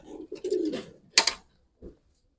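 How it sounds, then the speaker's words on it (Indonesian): A bird held in the hand during feather repair gives a few soft, close coos and low throaty calls, followed by a faint rustle and a brief pause in near silence. "Nah, ini saya pegang burungnya ya."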